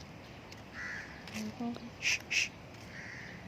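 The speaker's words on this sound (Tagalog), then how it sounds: "ayun, yung mga uwak." Two loud harsh crow caws close together stand out over faint background noise on a morning walk, with a brief spoken word just before them.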